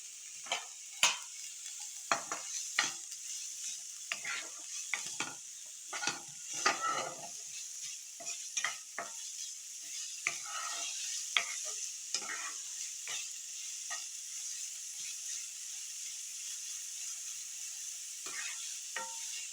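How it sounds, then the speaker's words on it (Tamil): Onion sautés in a pan, a soft steady sizzle running beneath repeated scraping stirs that come in irregular bursts, some louder than others, over about twenty seconds. "வெங்காயம் கொஞ்சம் வதக்கிட்டு அப்புறம் தக்காளி மட்டும் போட்டு வதக்கிக்குவோம்"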